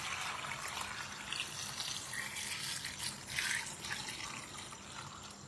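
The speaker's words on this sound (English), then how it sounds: "So I'm sieving the milk again" Coconut milk drips and trickles through a sieve into a container, a soft, continuous liquid patter with small splashy drops, fairly faint and close.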